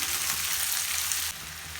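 Steady, close sizzling of onions sautéing in a hot pan, a continuous hiss with no talking.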